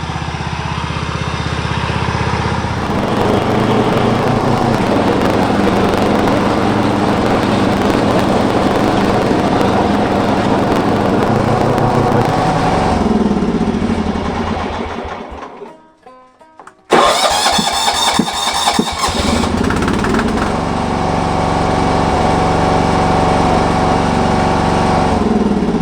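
A Kawasaki FB460V small engine running with a steady, loud mid-pitched drone that dips and cuts out briefly near the middle, then roars back and carries on evenly.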